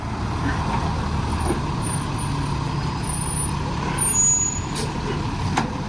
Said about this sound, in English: second truck is here